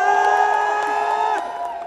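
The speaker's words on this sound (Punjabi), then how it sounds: "ਇੱਕ ਵਾਰੀ ਅੰਮ੍ਰਿਤਸਰ ਦੇ ਨਾਂ ਤੇ ਤਾੜੀ ਲਾ" A crowd at a live show in Amritsar cheers and whoops loudly, a sustained blend of raised voices that fades slightly toward the end.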